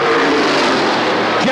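Supermodified race cars roar around Oswego Speedway in a steady, loud, dense engine blare, with a brief rising whine near the end, under an announcer's continuous race commentary.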